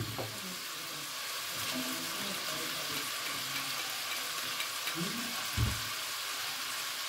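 Green peas and onion sizzling in a frying pan, a soft, steady hiss of frying that runs continuously, with a small clatter of a utensil partway through.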